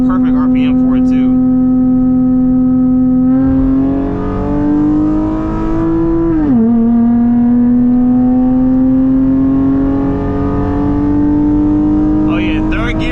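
A drag race car on a new transmission tune accelerates hard from a fifty roll, its loud engine droning as the pitch climbs, dropping briefly at a gear change around the middle and then rising again. A voice speaks briefly at the start.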